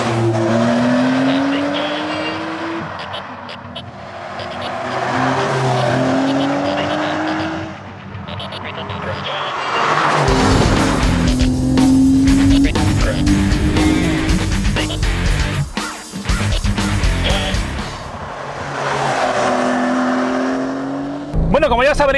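A 2023 Porsche 911 Carrera T on the move, engine note rising and falling through gear changes with a hard acceleration burst and brief tire noise, loud and close throughout.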